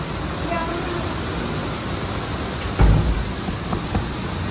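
A heavy rainstorm lashes a rural farm plot, a dense roaring wash of rain and wind with a louder gust or splash swelling midway, close and continuous.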